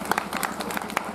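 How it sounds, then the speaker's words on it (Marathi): A workshop audience at a career guidance event claps for a student, giving a quick, irregular patter of handclaps at moderate loudness. "त्याच्यासाठी टाळ्या झाल्या पाहिजेत परत एकदा"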